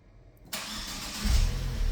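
Vauxhall Corsa VXR Nurburgring Edition with a cat-back exhaust cranks over after a short quiet spell, then catches and roars into a loud, deep idle that swells further toward the end, recorded close with no talking.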